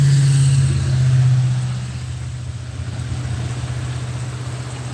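A truck rumbles past during a Kentucky thunderstorm, its low engine drone strongest early and fading into steady rain-like hiss.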